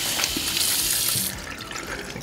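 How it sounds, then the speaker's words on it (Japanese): Hands washed under a running tap at a spoon manufacturing factory: a steady, close stream of water splashing into a sink continues without a break. "はい、まず手洗いします。"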